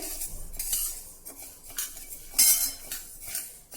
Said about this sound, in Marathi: आता मंद गॅसवर हे तांदूळ देखील आपल्याला छान तांबूस रंगाचे होईपर्यंत भाजायचे आहे